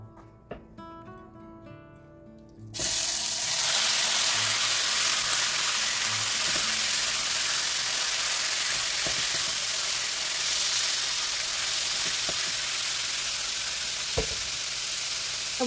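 Beef is added to a hot pan for stir frying, and after a few quiet seconds a loud, sudden sizzle bursts in and keeps hissing steadily, with occasional stirring knocks.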